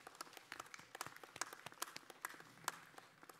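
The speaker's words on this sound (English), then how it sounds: "A round of applause for your family" A scattered, fairly sparse round of clapping from the audience at an architecture and design school commencement ceremony, heard at a distance and fairly faint, with individual claps standing out.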